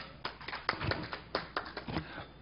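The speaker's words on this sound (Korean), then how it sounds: "기왕 치시면 박수 좀 크게 쳐주세요." Sparse, scattered handclaps from a small audience at a Korean political party press briefing, a few separate claps spread irregularly over a couple of seconds, fairly close and alone without speech.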